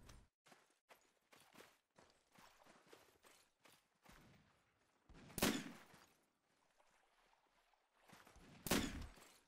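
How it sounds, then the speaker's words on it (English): Two sharp, loud gunshots ring out several seconds apart in Mount and Blade Warband, set in 1860s America, over a bed of clattering footsteps or hooves and faint background battle noise. "Someone is shooting me."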